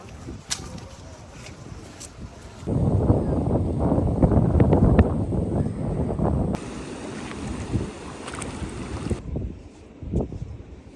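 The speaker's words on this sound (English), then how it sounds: "We've just come down to Talabudro Creek to have a little bit of a beach day" Windy beach at Talabudro Creek on the Gold Coast at high tide, with gusty wind buffeting the microphone and a rushing surf-like wash that rises loudly midway, then eases.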